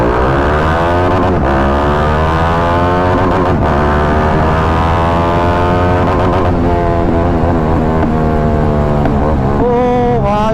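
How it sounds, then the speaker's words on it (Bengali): A car engine and exhaust pulling hard in first gear, a loud, close, continuous rising roar whose pitch climbs steadily, with a couple of brief dips, and no talking. "ভাই এক্সস্ট নোট ভাই খতরনাক আছে, খতরনাক। ও কি পাওয়ার এটা ভাই, পিক আপ দিচ্ছি ভাই এক ফাস্ট গিয়ারে,"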